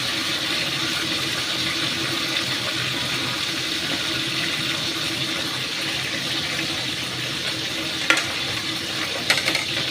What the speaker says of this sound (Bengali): এবার অপোজিট সাইডটা আবার ভাজা হবে